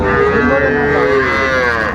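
Loud, continuous mooing from young bull calves close by at a cattle farm in Sylhet, a long drawn-out bellow with rich harmonics and no talking.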